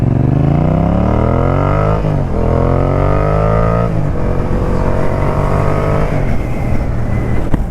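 A Yamaha MT-07 motorcycle engine revs up loud and close through several gears, each rising pull ending in a brief dip at the shift, on an easy ride.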